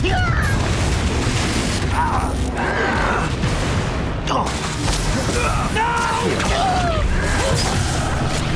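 In the Hogwarts Legacy video game, Confringo spell blasts go off as repeated booming explosions, mixed with swooshing effects, crashing debris and game voices.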